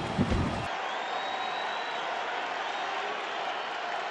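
A crowd at a Dodgers-Giants baseball game applauds and cheers in a steady, wash-like roar. It comes from a distance and holds evenly throughout after a brief louder burst at the start.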